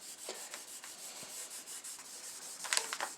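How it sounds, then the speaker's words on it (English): A cloth rubs Dingotone finish into close-grained rock maple wood, making soft, steady scrubbing strokes that repeat quietly and close by, with no voices. "just start rubbing it right in."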